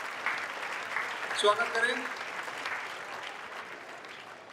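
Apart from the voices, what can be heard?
audience applause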